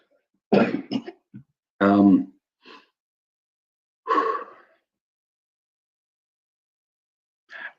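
A few short, sharp coughs and throat-clearing bursts come close up in otherwise quiet surroundings, separated by pauses, with a faint breath near the end.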